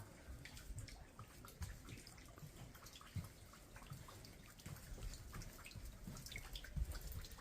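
Melting ice drips from the small roofs and corridors of an old Korean imperial palace, a scatter of faint, irregular drips and trickles under steady low outdoor background noise.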